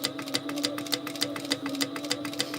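A sewing machine topstitches along the tops of canvas card slots for a handmade travel organizer, giving a steady motor hum with a rapid, regular needle clatter throughout, close and alone.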